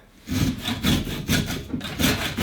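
Wooden batten sawn into slices for a recycled-wood Christmas tree, heard as close, rhythmic back-and-forth saw strokes with a steady rasping rub, about five strokes in quick succession and no talk.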